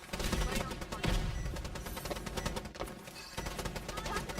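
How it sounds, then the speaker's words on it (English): Gunfire in the video game Strinova: rapid, dense bursts of shots crackle continuously, fairly near, while a voice speaks over the shooting. "Taking enemy suppressive fire."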